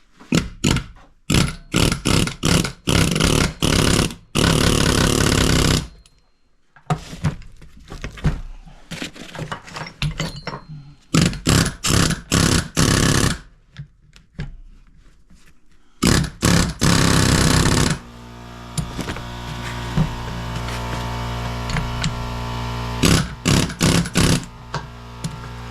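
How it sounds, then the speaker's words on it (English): An air hammer works on a Ford Super Duty front end, firing in repeated loud rattling bursts with short pauses, and an air compressor drones steadily in the background toward the end. "I choose the easy way of using an air hammer"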